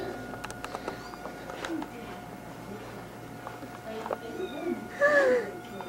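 A cat gives a short meow near the end over faint room noise and scattered light clatter, with someone speaking quietly in the background.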